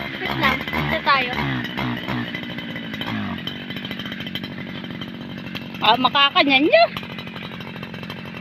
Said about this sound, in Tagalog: Mag-umpisa mag-grass cutter.